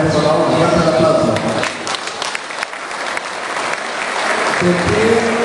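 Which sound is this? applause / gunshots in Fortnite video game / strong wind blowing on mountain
applause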